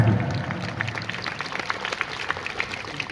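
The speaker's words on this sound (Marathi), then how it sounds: "एकदा खणखणीत टाळ्या होत्या चिंचगडी संघासाठी" Scattered applause from an outdoor audience at a district palkhi dance competition for the Chinchghari troupe of Chiplun, with dense claps continuing steadily over a low rumble of crowd noise.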